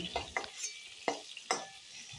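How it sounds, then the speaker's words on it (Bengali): Pointed gourd (potol) fries in hot oil with a soft sizzle, broken by several sharp scraping stirs of a spatula in the pan, close and fairly quiet. "পটলগুলো ভাজা হয়ে গেছে খুব ভালো করে। এরপর এক এক করে তুলে নেব।"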